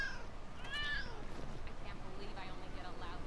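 A cat meows in LEGO City Undercover, with a rising tonal call near the start over constant game background noise and music.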